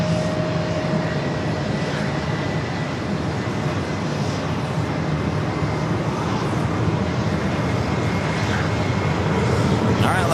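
An Airbus A321 airliner on flight 1501 to Fort Lauderdale passes at JFK with a steady, fairly loud jet engine roar and a faint whine, as people talk over the noise.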